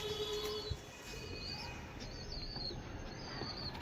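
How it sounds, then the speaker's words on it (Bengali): A pair of long-bodied desi pigeons coos softly and close by, several short repeated calls over a quiet background. "প্রচুর লং সাইজের পায়রা এটা"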